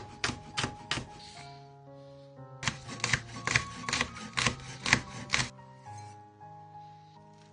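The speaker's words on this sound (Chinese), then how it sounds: "把青红椒切小圈" A knife chops green and red chili peppers into small rings on a cutting board, crisp rhythmic taps in two close bursts, a few quick cuts then a longer steady run of rapid chops, with a brief pause between.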